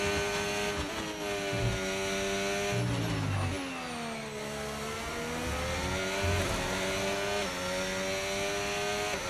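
An F1 car engine in the F1 25 racing game revs with a stutter, its pitch climbing and dropping in repeated uneven sweeps, loud and close, with no talk.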